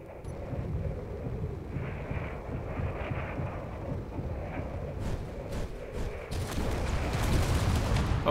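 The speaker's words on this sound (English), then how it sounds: "It like destroyed a bunch of blocks before it actually blew up." A bullet tearing through and blowing up blocks in Space Engineers, a low rumbling roar with a series of crackling impacts that build into sharper, louder bursts toward the end, no talk over it.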